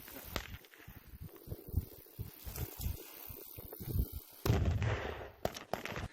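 Small arms fire during military training at hanging targets that simulate drones: sharp shots crack irregularly in quick succession, some close and loud, with a louder burst near the end over outdoor background noise.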